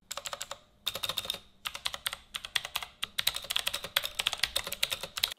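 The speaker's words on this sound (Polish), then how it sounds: "Niebieskie to najbardziej charakterystyczne, z głośnym i wyczuwalnym klikiem." Fast, crisp clicking of a Savio Tempest RX full-size mechanical keyboard with Outemu blue switches, typed in quick bursts with brief pauses, close and fairly quiet, with no voices.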